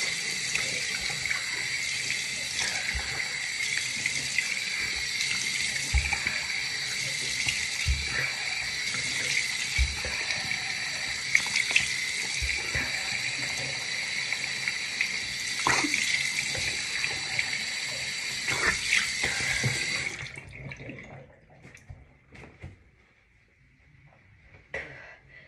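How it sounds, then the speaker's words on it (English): Tap water pours steadily into a bathroom sink during face washing, a close continuous splashing rush with occasional knocks, then the flow stops abruptly near the end, leaving faint drips and handling sounds. "put my hands, fill them up with water, and splash them on my face."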